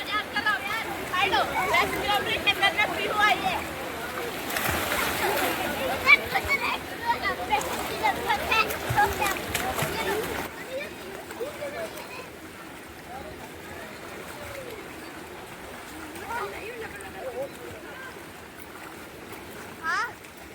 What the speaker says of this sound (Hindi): अब आप देख सकते हैं कि मैं नदी में स्नान करने चली गई हूँ